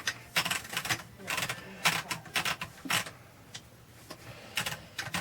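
Quick bursts of keystrokes on a freshly cleaned Royal typewriter with its case removed, irregular clacks with short pauses between runs, close and fairly loud with no talking.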